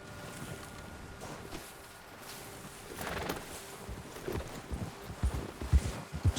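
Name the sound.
horse hooves clip-clopping while riding in the video game Red Dead Redemption 2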